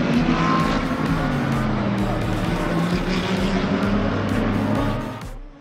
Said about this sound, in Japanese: マルコ選手がさらにタイムを上げていく